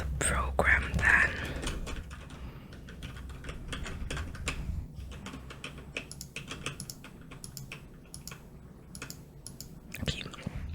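Soft, rapid computer keyboard typing in a quiet indoor setting, irregular clicks running throughout at close range, with a faint breathy voice briefly at the start.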